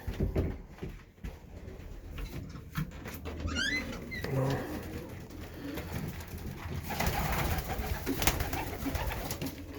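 Racing pigeons coo softly in a loft among other rustling and shuffling sounds, with low murmuring calls and some flapping in a busy enclosure.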